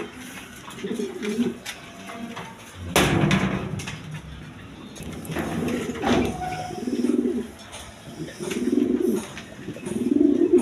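Lahori pigeons in a loft coo in repeated low, rolling bursts at close range, with a sharp clatter near the start and background rustling between calls.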